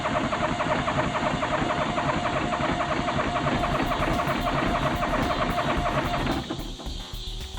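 A John Deere 425 lawn tractor engine cranks on the key with the choke set, a steady, dense mechanical churning that runs continuously for about six seconds, then drops away as the cranking stops.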